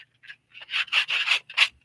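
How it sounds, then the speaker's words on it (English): Hand sanding of a soft material for a crafted morel mushroom, heard as short scratchy rubbing strokes in uneven bursts, close and fairly quiet, with brief pauses between passes. "Something like sanding goes real fast."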